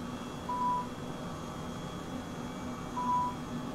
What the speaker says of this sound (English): I wish it would beep slower.